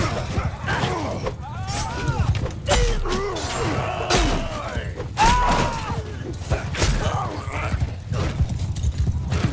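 Horse in Mount & Blade 2: Bannerlord battle, hooves clopping and gear clattering amid combat noise, with someone talking over it.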